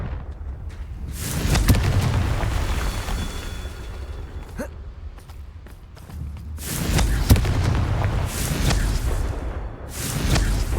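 Blasting spell explosions in the Hogwarts Legacy game, several heavy booming impacts with rumbling tails and sharp crackling transients, spaced a few seconds apart.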